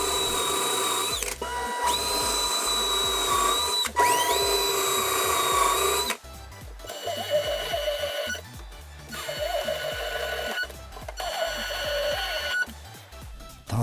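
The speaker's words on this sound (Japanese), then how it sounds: "カップボードの中央縦板は強度を考慮して下からビス止めします。" Power driver sinking screws from below into the center vertical panel of a kitchen cupboard, a loud whining motor with rising pitch sweeps in several bursts, plus ratcheting clatter and handling knocks, close and continuous.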